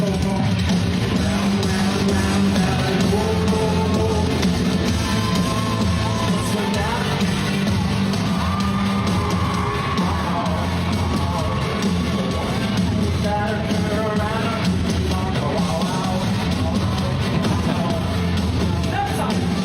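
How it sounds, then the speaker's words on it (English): A concert crowd sings a chorus together into a mic held out toward them, a dense, continuous roar of many voices with yells mixed in, loud and sustained throughout. "So all the chorus is him holding the mic to the crowd"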